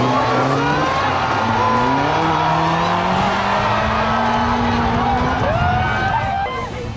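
A historic-class rally car at the Sol Rally Barbados slides through a gravel corner at Sailor Gully, its engine droning and rising steadily under loose tyre scrabble, with a crowd murmuring faintly in the background.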